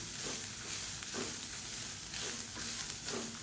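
Curry leaf chutney ingredients with coconut frying in a pan, giving a dense steady sizzle broken by a few soft stirring scrapes, close by and without speech.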